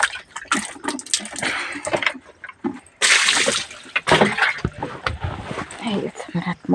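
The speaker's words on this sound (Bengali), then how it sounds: "হাত মুখ ধোয়া।" Running water splashes while someone washes their hands and face, giving intermittent bursts of splashing and pouring that sit under and between people talking nearby.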